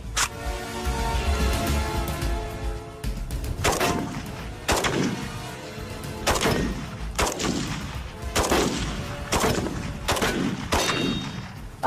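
An AK rifle fires a series of loud, sharp shots at irregular intervals of about a second, each crack ringing out with a reverberant tail, in an outdoor test on a car show.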